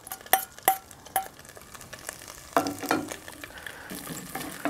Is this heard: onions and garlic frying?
yes